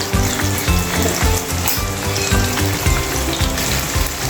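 Paneer cubes fry in a pan over a raised gas flame, a loud, steady crackling sizzle running without pause, with low rhythmic bumps of the pan or spatula underneath and no voices.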